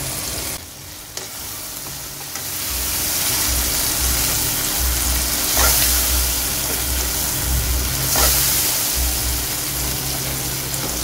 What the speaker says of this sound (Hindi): तो इनको अच्छी तरह से मसालों को भूनेंगे जी।